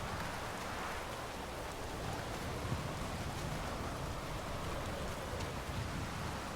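Steady, dense rain hissing and pattering through stormy weather in The Witcher 3, a constant even wash of drops with no voices and no thunder standing out.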